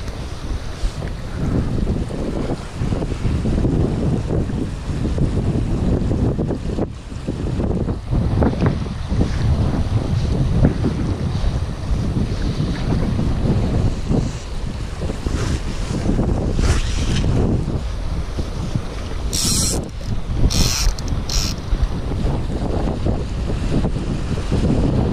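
Strong wind buffets the microphone continuously over a Scottish loch while out on a boat during spring river fishing, a loud steady roar with water slapping and a few brief higher squeaks near the end.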